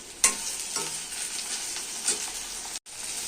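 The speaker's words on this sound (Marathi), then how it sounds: "अशी 5 मिनिट परतून घेऊया भेंडी." Okra stir-fried in a pan, a steady sizzle broken by a few spatula scrapes and clinks, with a brief dropout near the end, no talking.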